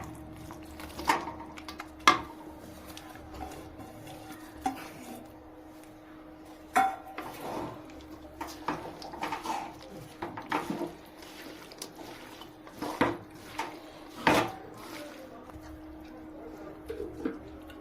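Chopped raw mango for pickle goes into a pan on low heat in a home kitchen, giving scattered light clinks and knocks of a utensil against the pan with soft moist shuffling, fairly quiet and irregular.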